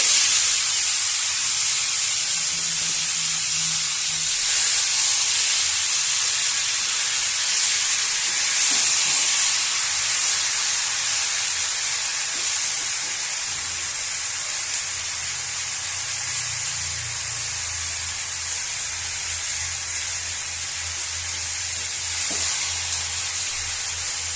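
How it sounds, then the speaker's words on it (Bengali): Mango pieces hit hot mustard oil tempered with whole spices and a dried red chilli, giving a loud, continuous close-up sizzle and steamy hiss that holds steady without speech. "ফোড়নটা ভাজা হয়ে গেছে এবার আমি আমগুলো দিয়ে দিচ্ছি"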